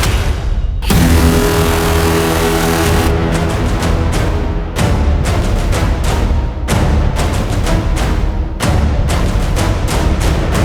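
A black car drives off and accelerates during a chase, a loud sustained engine roar broken by sharp repeated clicks and bursts as it speeds along.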